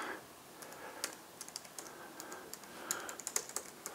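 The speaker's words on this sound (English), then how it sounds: "I love how the keys feel when you're typing them." Quick, uneven clicks of fingers typing on a Logitech wireless keyboard, close and fairly quiet, with brief bursts of several keystrokes and short pauses between them.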